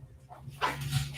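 A 14-year-old dog gives a couple of short barks close by against a low background hum, with the second bark louder and fuller.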